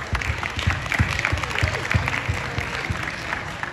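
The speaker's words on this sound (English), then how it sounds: "Big round of applause for Devon and Antonio" A rap battle crowd at the OMG 2022 event applauds the battlers Devon and Antonio, giving continuous dense clapping mixed with scattered crowd noise.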